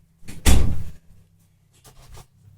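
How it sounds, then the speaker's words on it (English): A car door is slammed shut with one loud, close thump and a rattle, followed by fainter shuffling and small knocks as someone settles in. "So the door shut."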